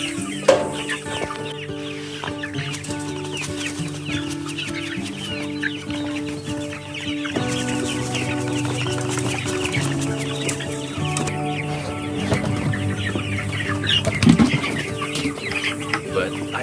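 Chickens cluck steadily in a busy flock moving ahead of a tractor-towed mobile coop, a dense chorus of overlapping calls with occasional wing flutters and background rumble.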